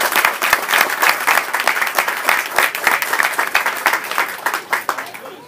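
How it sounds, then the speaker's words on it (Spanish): An audience at an official environmental event in Remolino applauds for the visiting minister, with steady dense clapping throughout and a few sharper individual claps near the front. "quiero pedir un aplauso fuerte para la presencia del ministro"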